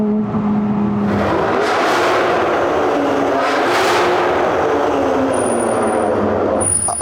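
Loud, close Lamborghini V10 driving past with a continuous throaty roar that swells and fades twice in broad surges, engine pitch sliding as it accelerates, ending in a high thin whine.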